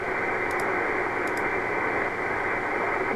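An amateur radio signal received slightly off frequency on an FT-891 transceiver comes through as steady band-limited hiss and noise, with garbled sideband tones and no clear voice.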